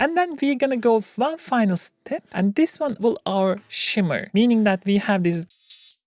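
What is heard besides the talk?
No everyday noise stands out behind the speech.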